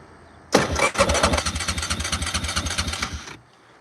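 An engine cranks and catches, a sharp start followed by a rapid chugging run for about three seconds before cutting out, close and loud with no talking.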